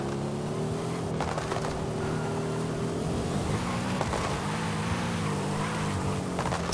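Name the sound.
Mercedes SL65 AMG Black Series car braking in video game Forza Horizon 5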